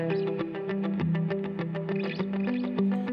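Effects-processed guitar tracks in a Cubasis song mix on an iPad, steady strummed chords with chorus and distortion, rhythmic and full, playing continuously without any voices.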